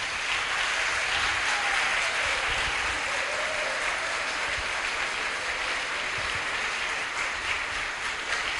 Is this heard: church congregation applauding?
yes